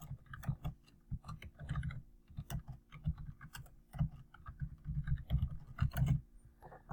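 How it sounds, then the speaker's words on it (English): Quiet, irregular clicking of keys on a computer keyboard, short bursts of typing with brief pauses, close and soft with no talk. "I can type my own question if I know what my question is."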